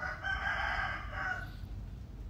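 A rooster crows once, a strong drawn-out call lasting about a second, then fades into steady farmyard background noise.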